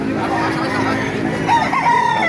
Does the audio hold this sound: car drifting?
no